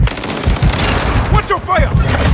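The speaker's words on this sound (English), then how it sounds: "They're shooting at me!" Gunfire in Call of Duty: Modern Warfare II, with rapid automatic bursts crackling through a short, loud stretch and a shouting voice mixed in among the shots.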